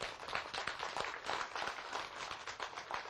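An audience claps steadily in tribute, a dense, even patter of many hands that holds at the same level throughout, with no talking over it.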